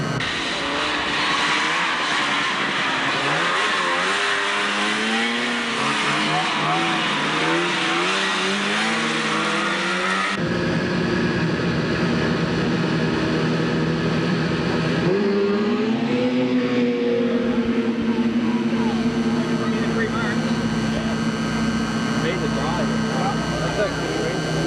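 Grass drag racers rev their engines at the start line of the 1988 Vermont State Championship Grass Drags, with rising and falling engine wails and sustained high-revving drones that stay loud and continuous while a commentator talks over them.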